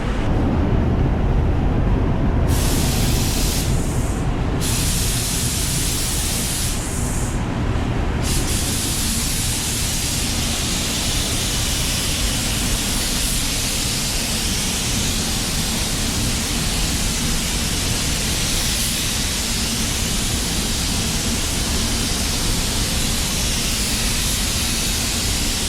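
A spray gun lays a second coat of red tri-coat car paint, giving a loud, steady broadband hiss that pauses briefly a few times early on, then runs continuously.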